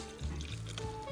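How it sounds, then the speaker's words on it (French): A beaten egg and a mixture of melted butter, milk and sugar pour into a well of flour for brioche baguettes, a short, close, wet liquid splash with no voices. "l'on va verser l'œuf ainsi que le mélange beurre fondu, lait, sucre"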